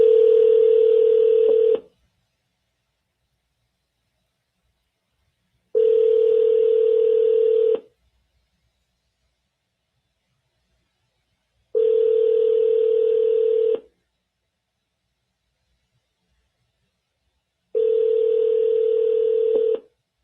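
Telephone ringback tone during a call: four identical long tone bursts of about two seconds each, separated by roughly four-second silences, clear and steady with no talk.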